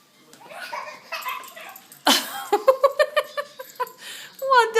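A dog gives a run of sharp, rapid yipping barks and high whimpers at close range, with a voice and giggles mixed in beforehand.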